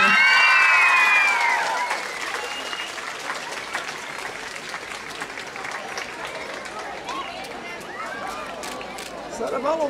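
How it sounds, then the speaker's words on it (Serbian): An audience applauds a third-prize winner at a youth talent final, with bright sustained clapping at first that fades into scattered claps and crowd murmur, then swells slightly again at the end. "Jedan veliki, veliki aplauz za Milutina Mitrovića koji je osvojio treću nagradu."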